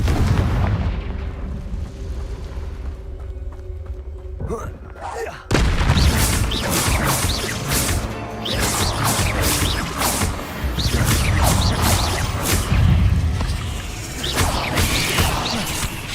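Confringo fire spell explosions in the Hogwarts Legacy video game, a sharp loud blast followed by a dense run of crackling bursts, booms and impacts amid combat, with voices heard during the fighting.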